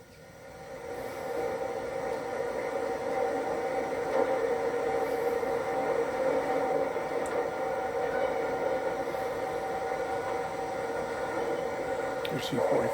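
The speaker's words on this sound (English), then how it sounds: "a pair of CSX GE Wildcats moves through the yard" Pair of CSX GE locomotives moving through a rail yard in Jacksonville in 1997, giving a steady droning rumble at moderate distance that holds for the whole stretch, with faint squeals near the end.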